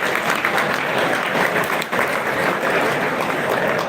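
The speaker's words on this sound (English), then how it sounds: "round of applause for everybody in the category as well" Sustained audience applause fills an awards ceremony hall, with dense clapping from a large crowd, loud and steady for several seconds and no talking over it.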